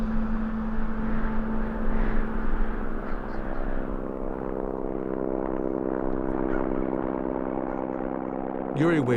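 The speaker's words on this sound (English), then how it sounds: "boarding a helicopter in Novi Port, the closest village" Helicopter near a remote tundra village, a loud, continuous droning engine and rotor hum with steady tonal whine, heard close throughout.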